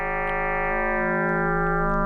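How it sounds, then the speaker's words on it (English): Shakmat Banshee Reach synth module producing classic FM tones: a steady, bright sustained tone with a dense stack of harmonics holding evenly for about two seconds, alone and fairly loud. "As you can hear, we can achieve those classic FM tones."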